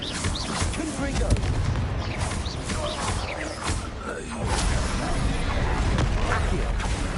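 An explosive Confringo fire spell from the Hogwarts Legacy video game bursts amid dense, rumbling combat noise, with booming impacts and crackling blasts over a loud, continuous battle bed, and a voice speaking over it.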